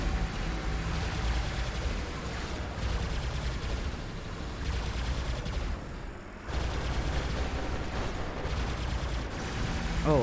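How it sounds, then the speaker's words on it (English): A robot's turret fires in the War Robots video game, making dense, continuous gunfire and blasts that fill the whole stretch with a loud, unbroken barrage. "My turret is attacking."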